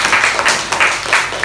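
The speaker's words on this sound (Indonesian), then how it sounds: "Tepuk tangan dulu" A classroom group applauds during a microteaching session, with a burst of steady clapping from several people filling the short moment at close range.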